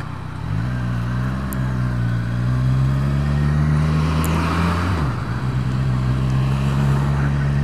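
A Kawasaki Z1000SX motorcycle ridden at low speed, its engine holding a steady, close, humming drone that dips briefly as it shifts, then settles back into an even note.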